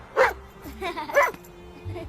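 A dog barks twice, about a second apart, loud and close, with a short whine between the barks and people talking nearby.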